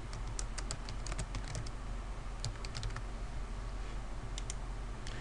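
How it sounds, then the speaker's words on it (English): Light, scattered key taps on a computer keyboard as a document name is entered, faint clicks in irregular bunches over a steady background hiss, with no voices. "I'm going to type in Fields of Science"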